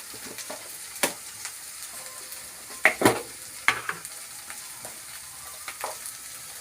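Potato fry sizzling in a pan while being stirred, with a steady crackle of oil and a few sharp scraping clicks from the spatula against the pan, close and fairly quiet, with no talk.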